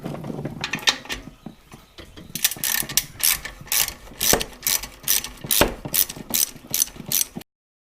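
A hand ratchet loosens a 9/16 exhaust nut on a 2018 Harley-Davidson Road Glide Special, giving repeated bursts of close, crisp clicking in an uneven rhythm, with no talking.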